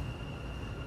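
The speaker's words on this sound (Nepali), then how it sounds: "ट्रेन पनि आइपुगेको" A Dubai metro train pulls into a station, heard as a steady, close, broadband rumble with no voices over it.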